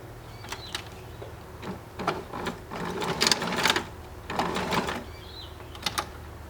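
A sewing machine stitches a back strap for a slip-on shoe in several short, clattering bursts separated by brief pauses, close and fairly loud with no talk.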